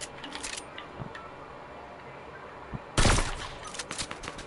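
Gunfire in a multiplayer shooter video game, with a soft rattle early on and then a loud sharp burst of shots with a clattering tail near the end.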